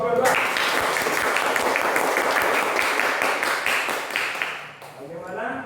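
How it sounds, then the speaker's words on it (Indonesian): A school classroom applauds group 2 after its presentation, a dense patter of clapping hands mixed with voices that thins out toward the end. "tepuk tangan dulu kelompok 2"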